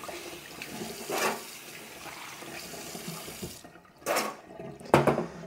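A small syringe rinsed under a running tap, water splashing in short bursts with a louder gush near the end, close and fairly clear, no voices.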